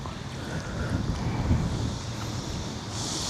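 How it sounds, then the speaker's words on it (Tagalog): Wind blows steadily at sea aboard a small fishing boat, a continuous low broadband rush with buffeting on the microphone, fairly loud and unbroken, with no voices over it. "Ganda ng hangin ngayon."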